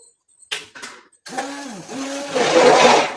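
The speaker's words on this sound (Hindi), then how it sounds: "ठीक है, इन सारी चीज़ों को हम ब्लेंड कर लेते हैं।" An electric blender mixing a kadi batter of gram flour and spices: a few short clicks and bursts, then a steady whirring motor whose pitch rises and settles as the mixture churns, loud and close.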